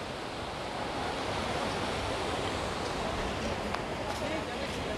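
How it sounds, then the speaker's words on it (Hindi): A constant, dense roar of fast-moving river water in Rishikesh or Haridwar rushes loudly and evenly from start to finish, with a voice faintly under it. "पानी का बहाव कुछ ज़्यादा ही तेज़ हो रहा है"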